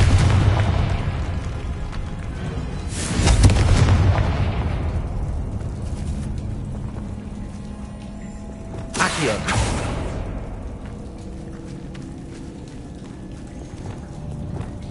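Confringo explosion spells in the video game Hogwarts Legacy, two heavy booming blasts several seconds apart, each swelling into a broad rumbling roar over a constant low mechanical drone.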